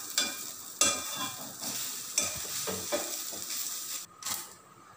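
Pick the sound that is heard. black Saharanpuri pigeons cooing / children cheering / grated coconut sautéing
grated coconut sautéing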